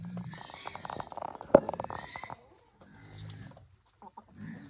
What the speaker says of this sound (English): Chickens peck to eat their food.